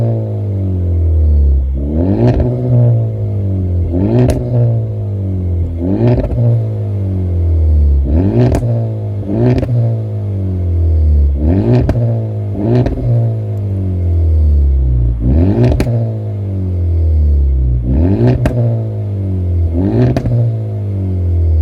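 A Honda Civic Type R FK2 with a Tegiwa B-pipe exhaust, recorded from outside, revs up again and again in a steady cycle of rising rasping pulls and dropping falls, loud and alone throughout.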